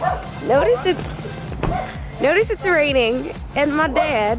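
A pet dog yips and barks in bursts, close by, mixed with talking voices at an outdoor grill on a rainy day.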